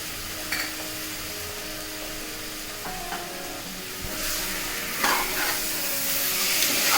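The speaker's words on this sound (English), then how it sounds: "After adding it, mix well." Prawn pulao with rice, spices and curd sizzles steadily in a pan while a utensil stirs it, giving a constant loud frying hiss with occasional scraping strokes and faint clinks, without any talking.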